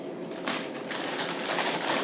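Tortilla chips crunched while eating, a run of close, crisp crackling bites over about two seconds with no talking.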